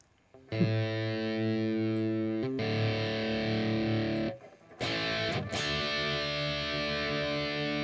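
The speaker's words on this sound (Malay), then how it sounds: "kalau kat sini abang tambah je distortion kan" Heavily distorted electric guitar chords ring out in long sustained blocks, loud and buzzing with rich overtones, separated by brief gaps and a sharp change of chord.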